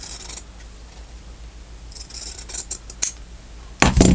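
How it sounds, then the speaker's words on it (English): Sharp scissors snip fabric trim for a lacy vintage bobbin ornament, with a few quiet cuts in the middle and a louder, crisper burst of snipping at the end. Nobody speaks. "Right here, it needs to be trimmed just a little bit."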